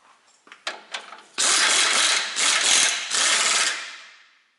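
A pneumatic impact gun running a bolt into the left rear strut of a 2004 Ford Explorer 4X4: a few short hesitant bursts, then three long, loud, close rattling runs before it stops.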